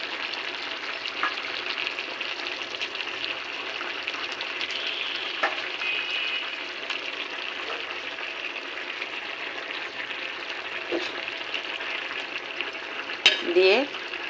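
Koi fish frying in a pan with pumpkin greens, a steady close sizzle with occasional stirring scrapes and a brief clatter near the end.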